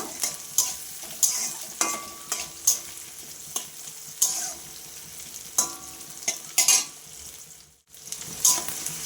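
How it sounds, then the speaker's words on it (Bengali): Tomato and onions fry in a pan with a steady sizzle, while a spoon stirs and scrapes against the metal in repeated sharp strokes, close and fairly loud. "পেঁয়াজটার সাথে টমেটোটা আমি আরেকটু ভেজে নেব"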